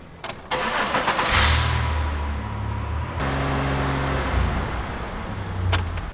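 A Chevy Impala engine cranks and catches, then runs up around 2,500 RPM with a steady, moderately loud mid-range hum after a few clicks and a brief clatter at the start.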